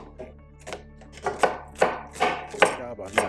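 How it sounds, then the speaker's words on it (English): Vegetables diced with a knife on a cutting board: a series of crisp, evenly spaced chops, close and clear, with no talk over them. "And we'll just do some simple dicing."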